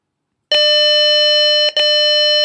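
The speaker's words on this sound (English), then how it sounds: "At the same instant, the buzzer start producing sound." A loud, steady electronic buzzer tone from an IC 555 infrared burglar alarm circuit starts abruptly, cuts out briefly, then resumes and holds, shrill and close.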